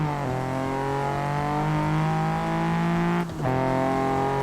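A Toyota Celica GT4 engine revs hard in the Assetto Corsa racing game, a steady loud mid-pitched drone that holds and climbs, broken by a quick dip near the end as a gear shifts, then carrying on with no talk.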